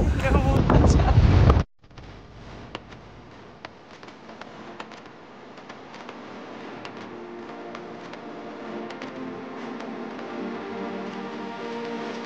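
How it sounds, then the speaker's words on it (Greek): Strong gusting wind batters the microphone with a loud roar at first, then eases into a steadier rush of wind on the island of Syros. "Φυσάει πολύ από το"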